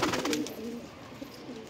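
Punjabi pigeons for sale in Chhatarpur village, Delhi, coo in a few low, soft, rolling calls, close by with no talking.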